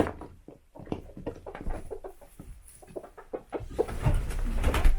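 Backyard chickens cluck and peck close by in a flurry of short, irregular clucks and soft patter, with a rustling bustle building toward the end.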